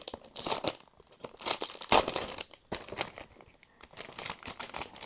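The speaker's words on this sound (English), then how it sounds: "let me get the plastic off of this" Plastic wrap being peeled and pulled off a new planner, producing bursts of close, loud crinkling and crumpling with short tearing moments, pausing briefly between handfuls.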